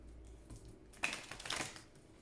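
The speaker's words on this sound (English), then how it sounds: "Please think of your question as I shuffle the cards." Oracle cards are shuffled by hand, first as soft scattered riffles, then as a louder cluster of quick flicking and snapping in the middle, close and dry with no speech.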